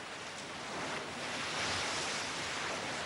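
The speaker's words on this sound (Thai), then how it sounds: "แรงสั่นสะเทือนก็ทำให้เกิดคลื่นยักษ์คล้ายสึนามิขนาดย่อมอย่างภาพที่เห็นครับ" Hotel pool water in Kathmandu surging and sloshing during the Nepal earthquake, picked up by a CCTV camera as a steady broadband wash of rushing water that swells slightly midway, with no voices.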